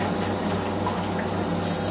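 Tap water running steadily into a sink while the temperature is adjusted for washing a poodle, a continuous close rushing flow with no talk.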